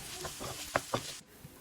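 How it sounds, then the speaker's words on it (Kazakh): A medium onion sizzles as it fries in oil and butter in a pan, with a few quick stirring scrapes standing out before the sound cuts off abruptly. "Табаға салып қуырамыз және бір орташа пиязды уақыттап турап, салып, жақсылап қуырып аламыз"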